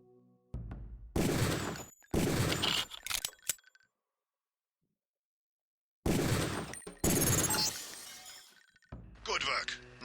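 Gunshots in the Deus Ex training range, fired at targets in two loud bursts of sharp cracks with glassy shattering debris, separated by a silent gap, with a brief voice near the end.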